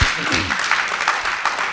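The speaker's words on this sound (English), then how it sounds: "Let's give all of our candidates a round of applause." Applause from an audience at a state representative candidate forum rolls on steadily, close and dense, with a voice briefly heard at the start.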